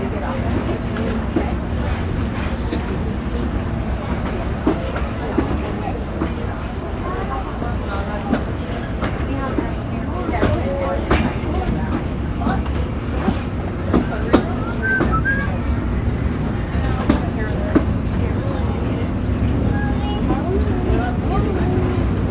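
Steady rumble of the old-fashioned narrow-gauge Disneyland Railroad train rolling along the tracks, with faint clicks and squeals over a constant low drone, continuous throughout.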